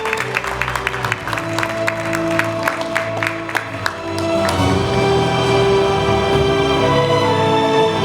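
An audience at the 2020 Uiseong future education roundtable forum, a public-private-school event, claps in a run of distinct close hand claps that merges into fuller, sustained crowd applause.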